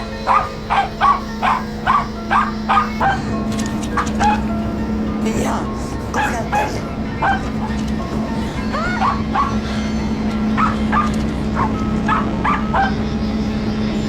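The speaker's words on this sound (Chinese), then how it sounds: "没想到嗅觉灵敏的狗狗直接跑到沙发旁，对着底下不停地叫了起来" A dog barks repeatedly in a quick series of yips, then keeps barking in scattered bursts over a constant low hum and background voices.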